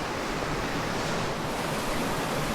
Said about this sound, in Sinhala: බෑන සමනලෙන් එන වතුර පාර.